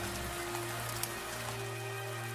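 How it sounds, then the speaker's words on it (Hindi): Heavy torrential rain pours down in a steady, dense hiss that fills the whole moment, loud and close, with no clear thunder crack standing out. "कड़कती बिजली के साथ साथ मूसलाधार बारिश भी शुरू हो गई।"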